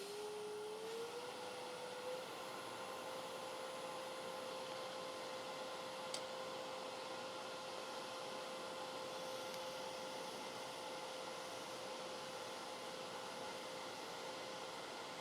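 A wood lathe's steady motor hum rises in pitch and then holds, a continuous high-speed whir with broadband noise while turning a walnut bowl, fairly faint and unbroken, with no talking.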